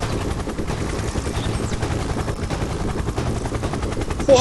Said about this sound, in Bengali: এটা তো সত্যি সত্যি হেলিকপ্টার আমাদের দিকে আসছে